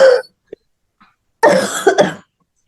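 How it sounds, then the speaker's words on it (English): A person deliberately coughs to clear the throat, with a short forceful cough followed by a longer burst of two or three harsh coughs, loud and close. "Pretend like you are coughing."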